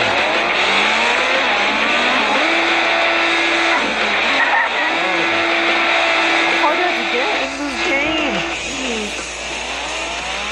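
A car driven in the video game Ultimate Car Driving Simulator on an impossible track: a loud, continuous engine drone that revs up and down in steady waves throughout.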